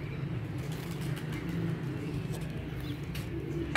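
Pigeons coo steadily and low on a cold, foggy winter morning, a continuous soft murmur of several birds close by with faint occasional wing or rustle sounds, no talking.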